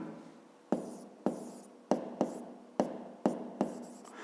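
Pen strokes tap and scratch on paper in a series of about eight sharp, evenly spaced strikes while a math exercise is written out, close and without talking.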